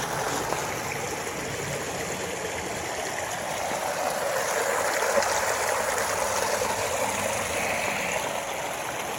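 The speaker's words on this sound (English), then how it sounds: "Got some nice mountain streams already." A mountain stream on a forest hiking trail in the Olympic Mountains near Port Angeles, Washington, flows in a steady, continuous rush of water, moderately close and alone, with no talking.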